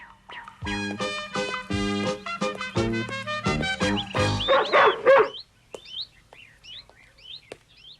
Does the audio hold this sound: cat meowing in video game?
no